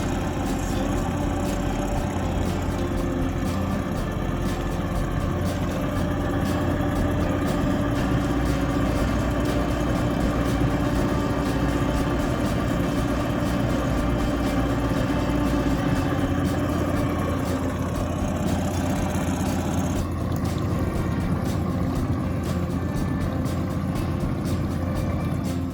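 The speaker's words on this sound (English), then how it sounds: "according to the break-in instructions, we have to idle the motor for 10 minutes" A new Tohatsu outboard motor idling through its break-in period, a continuous low mechanical hum and rumble that stays even and close for the whole stretch with no speech.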